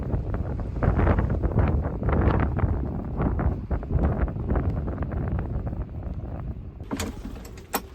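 Strong wind during a rainstorm roars and buffets the microphone continuously outside a truck camper, with gusty low rumbling throughout and a brief rattling flutter near the end.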